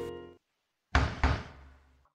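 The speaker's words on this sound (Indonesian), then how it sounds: "Dan Selen meminta ketukan sekali lagi sebagai tanda" Knocking in a horror film: two heavy, hollow knocks in quick succession, loud and close, each ringing out briefly before silence, after a short tonal sound at the start.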